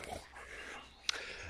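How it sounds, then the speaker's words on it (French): A pet dog pants softly close by, giving quick breathy puffs with a faint whimper and a sharp click near the end. It is quiet and short, and no talk covers it. "C'est bien mon chien."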